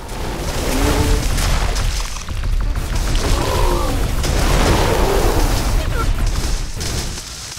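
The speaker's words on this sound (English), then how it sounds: "A building has been destroyed." Explosions as a base building is destroyed in The Riftbreaker, several heavy booms and crumbling blasts that swell and fade over several seconds, with a voice speaking over parts of them.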